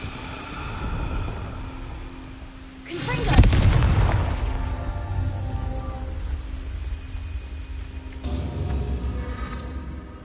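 A Confringo blasting spell explodes in the Hogwarts Legacy video game with a loud, close boom that rolls out into a long rumbling decay, and a second, fainter burst comes late in the clip.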